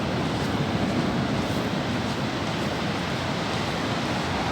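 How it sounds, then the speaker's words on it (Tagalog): Continuous roaring surf of strong ocean waves crashing on a beach, a broad steady wash with wind noise and no talking. "Malakas ang alon ngayon."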